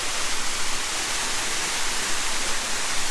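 A waterfall at Vagamon in Kerala, heard as a steady, dense broadband roar of falling water with no breaks, fairly loud and close throughout.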